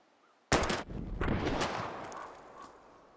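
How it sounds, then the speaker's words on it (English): One loud, close gunshot fired at bottles in Life is Strange Remastered, a sharp crack followed by a long fading echo and a smaller second report, alone without talk. "We're gonna shoot all these bottles without wasting a single bullet."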